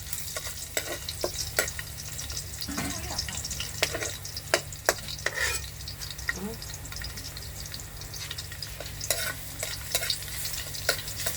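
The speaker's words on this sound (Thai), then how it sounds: "คั่วกระเทียมเหลืองหอม" Garlic stir-fried in hot oil in a Chinese-style wok over a charcoal stove, a steady close sizzle broken by repeated sharp scraping and clanking strokes of a utensil against the pan, with a faint low hum underneath.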